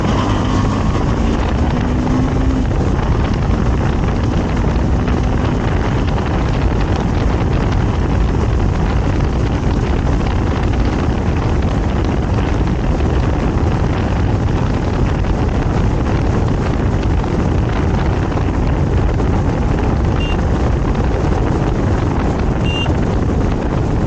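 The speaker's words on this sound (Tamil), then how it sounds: "கேடிஎம்னா கேடிஎம் தாங்க, சும்மா பறக்குதுங்க வண்டி." KTM Adventure 390 motorcycle ridden at speed on a Sunday ride, steady roaring engine drone mixed with heavy wind rush, loud and continuous without talk.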